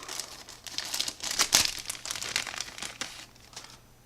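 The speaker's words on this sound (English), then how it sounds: "Let's peel open the oil pump." Crinkling plastic packaging being peeled open around a new oil pump for a Stihl 025 chainsaw, close and fairly quiet, with irregular crackles and a sharper tearing burst partway through.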